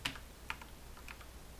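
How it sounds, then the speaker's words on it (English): Calculator keys being pressed, a few faint, quick clicks and taps spaced out over a quiet background with no voices. "So I'm going to calculate that on my calculator"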